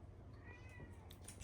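A kitten meows softly indoors near a bathroom shelf installation, a few faint, thin, rising mews spread across a quiet background hum.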